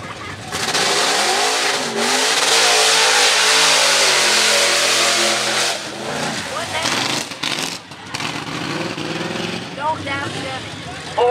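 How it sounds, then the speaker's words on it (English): A 1977 Chevy truck engine revs loud and close at a fall festival, its pitch rising and holding in a long sustained roar before dropping back, with people talking faintly underneath. "driving a 77 Chevy truck"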